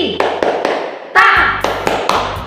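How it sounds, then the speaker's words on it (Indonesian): An audience performs a rhythmic group clapping routine called tepuk bahagia, sharp patterned claps and taps in quick bursts with brief pauses, close and loud in a public speaking session. "Yuk kita sama-sama tepuk bahagia."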